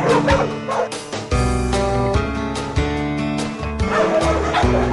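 Several pitbulls at an animal shelter bark and yip in loud, overlapping bursts. The barking runs without a break, and a few whimpers mix in.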